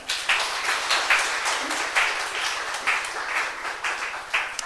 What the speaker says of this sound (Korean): 따뜻한 박수 부탁드립니다.